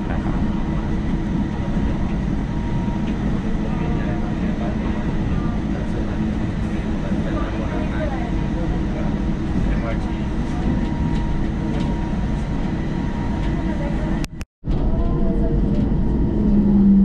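BTS Gold Line automated elevated train running toward ICONSIAM station in Bangkok, a steady loud rumble and hum of the moving carriage throughout, with a brief dropout near the end.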